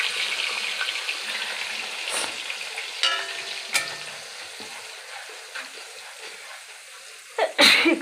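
A person sneezing from an allergy to spice smell while cooking, a sharp burst near the end over a faint kitchen sizzle, with a few brief clatters earlier.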